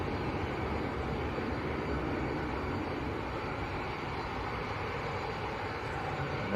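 A Ryanair airliner taxis at Manchester Airport, its engines giving a steady, fairly faint broadband rumble and hiss that holds level throughout with no talk over it.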